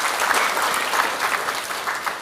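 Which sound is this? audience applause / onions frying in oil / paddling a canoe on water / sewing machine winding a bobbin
audience applause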